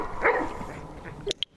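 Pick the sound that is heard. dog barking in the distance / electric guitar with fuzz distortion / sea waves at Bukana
dog barking in the distance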